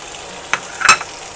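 Leftover chicken stir-fried with instant noodles in a pan gives a brief close sizzle with a couple of quick stirring scrapes, and no talk is heard.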